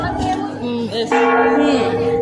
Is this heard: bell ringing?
yes